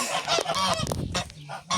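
Geese honk repeatedly in loud, overlapping calls at close range, a farmyard flock at the end of May with bursts of harsh, nasal honks and brief gaps between them.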